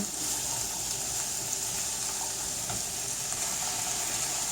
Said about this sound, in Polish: podsmażamy wszystko razem